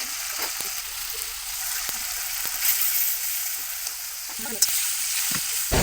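Spice paste with onion, tomato sauce and biryani masala fries in oil for an egg biryani, giving a loud, close, steady sizzle. Spatula scrapes and taps break in at irregular intervals, with no talk.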